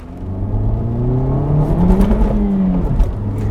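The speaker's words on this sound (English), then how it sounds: "So you heard a little bit of wheel hop there" A 2023 Honda Civic Type-R accelerates hard with a little wheel hop, its engine droning loudly and rising in pitch through a steady, close pull with a slight stutter partway through.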